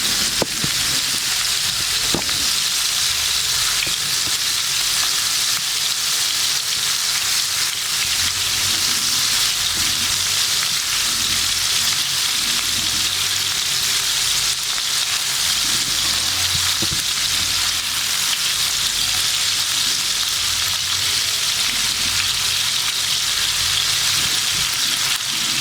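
Mutton koftas frying in hot oil, a loud, constant crackling sizzle with small knocks where the balls are turned over in the pan, and no voices.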